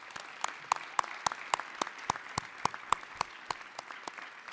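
Scattered clapping at a college commencement ceremony, a modest, sparse round of distinct individual claps in a steady loose rhythm, fairly faint and without talk.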